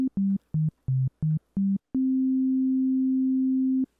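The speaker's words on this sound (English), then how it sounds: "Let's start with the sine wave. It is the fundamental. It is the only sound that consists of only one frequency." A synthesizer plays a pure sine wave as a series of short stepped notes at different pitches, then one long held note, clean and steady with no other sounds.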